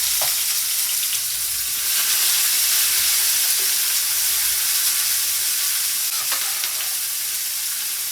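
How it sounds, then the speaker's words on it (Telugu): Onion sizzling in hot oil in a pan for a potato and cowpea curry, a dense, steady frying hiss close up and continuous throughout, with occasional faint stirring scrapes and no talking. "ఎర్రగడ్డ వేసేస్తాను."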